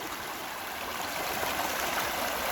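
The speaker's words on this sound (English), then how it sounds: "Good water flow over the top of it." River water rushing steadily over a gold panning sluice on a little river in New Hampshire, a continuous broadband wash close by, even in level, with no talk.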